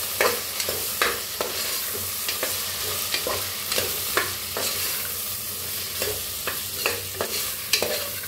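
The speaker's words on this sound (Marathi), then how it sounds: "छान भाजून घेऊया ह्याला" Turmeric and spices stir-fried in a pressure cooker for masala rice: a steady close sizzle with repeated sharp scraping strokes of a spoon against the metal pot.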